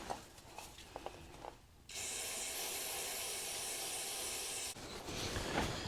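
Fluid gushes from a Corvette transmission shift shaft seal as a steady, loud, broad hiss. It starts abruptly, runs for about three seconds, then cuts off, with quieter clinking before and after.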